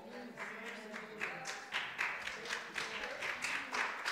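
Scattered congregation applause in a church during a sermon on unshakeable faith, a thin, uneven patter of claps that swells in small bursts and fades over a few seconds, fairly quiet and with no talk.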